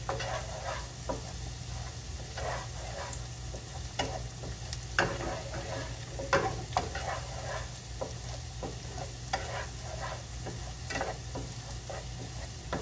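Shrimp frying in a pan over high heat, a steady sizzle with scattered stirring clatter and utensil scrapes throughout, no voices.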